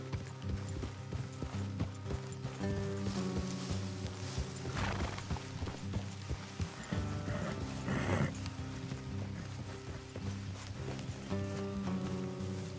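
Horses clip-clop along at a steady trot in Red Dead Redemption on PS5, with an occasional whinny, over a dense layer of game music and mechanical clatter.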